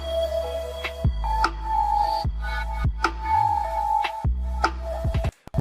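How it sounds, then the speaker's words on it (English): Synth sidechained by a slow LFO tool, giving a big gasping pumping effect: tones swell and cut out in repeated slow surges, with brief gaps between pulses. "If I want it to have like a huge, gasping kind of feel, I can lower the rate to here and it'll sound like this."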